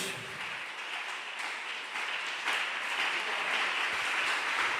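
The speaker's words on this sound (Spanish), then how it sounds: "Brinden un fuerte aplauso a Dios." A church congregation in Valledupar, Colombia claps together in a steady, dense wash of applause that holds for the whole stretch and grows slightly louder toward the end.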